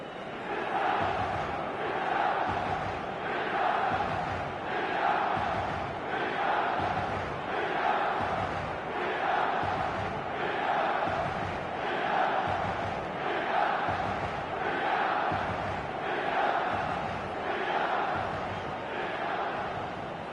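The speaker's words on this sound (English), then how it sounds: "this crowd are demanding the most from their players" Football stadium crowd in the video game eFootball, a loud, continuous roar of many voices swelling in regular waves like rhythmic chanting, with no commentary over it.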